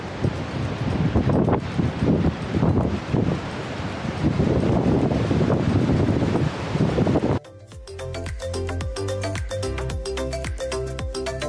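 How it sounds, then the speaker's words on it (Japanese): Strong wind buffeting the microphone with roaring spray near the base of Takakkaw Falls, loud and continuous, then cutting abruptly to a quieter, steadier background in the last few seconds. "風と水しぶきがすごすぎて"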